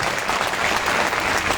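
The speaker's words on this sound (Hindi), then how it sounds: "इनके लिए जोरदार ताली बजाओ आप लोग।" A political rally crowd breaks into loud, dense applause, steady and close, with no talking over it.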